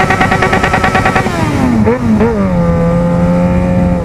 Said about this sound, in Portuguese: Vamos dar aquela tiradinha de giro aí pra galera que curte.